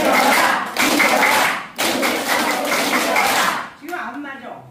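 A group of adults clap together in a rhythmic exercise clap during a class outing at the Deokpojin education museum, producing loud, dense bursts of many hands that stop briefly between sections.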